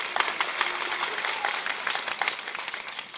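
A crowd at a Japanese film premiere stage greeting applauds steadily, dense clapping from many hands that carries on throughout.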